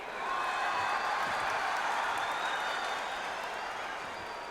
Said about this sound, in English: you can hear everybody in the crowd